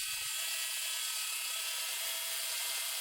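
Mini chop saw cutting 3/8 inch square mild steel inside a temporary enclosure, a steady bright high-pitched abrasive whine that runs without a break for about three seconds, with a short low thump at the start.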